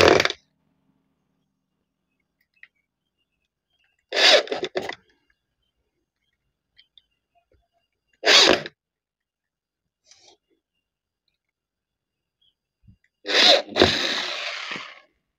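A screw being driven into old scrap wood to mount it for lathe turning, heard as four separate short bursts of screwdriver whirring, close and loud, with silence between them and no talking.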